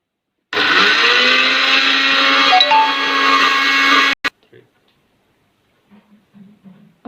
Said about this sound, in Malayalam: അപ്പോൾ നമുക്കിത് ക്രഷ് ചെയ്യാം.